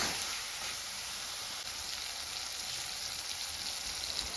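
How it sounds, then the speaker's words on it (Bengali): Ginger, garlic and green chilli spice paste with turmeric fries in a pan while being stirred, giving a soft, steady sizzle with no talking. "এবার আমি মশলাটাকে খুব ভালো করে কষে নিচ্ছি।"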